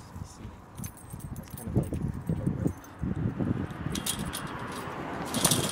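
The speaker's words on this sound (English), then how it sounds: "Here, I'm gonna use these keys." Someone handles a set of keys in an outdoor scene, producing scattered metallic jingles and rattles that come and go, with light rustling and background noise.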